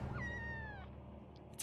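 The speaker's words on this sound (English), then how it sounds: "It's a cat." A cat gives one drawn-out, wavering meow that fades, followed by a short high rustle, heard close with no talking, from a scary scene in a video.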